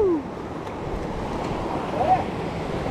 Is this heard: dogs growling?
no